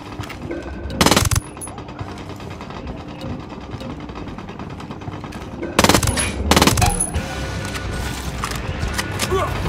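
Ghost Recon Wildlands gunfire: several loud bursts of automatic fire around one second and again near six to seven seconds, over a busy game backdrop with steady rumble and scattered smaller shots.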